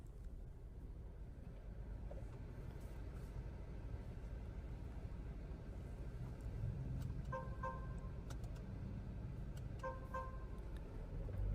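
A Tata Harrier Fearless+ SUV from 2023 drives along with a low, steady road and engine rumble, quiet and even throughout, with a few faint distant horn toots partway through.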